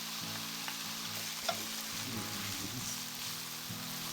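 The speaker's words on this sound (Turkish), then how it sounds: "Bu şekilde 1-2 dakika kavurduktan sonra biberleri ve havucu üzerine salçamı ekliyorum." Peppers, carrot and tomato paste sauté in a pan for a chicken stew, giving a soft continuous sizzle with scraping stir strokes and a small clink, fairly quiet and without talk.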